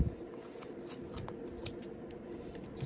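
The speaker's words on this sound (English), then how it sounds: "Take your scissors and you grab this part and you just start cutting." Scissors snipping through a bundle of wrapped yarn to make a crochet pom-pom, giving quiet, rapid, rustling cuts close by, with no talk.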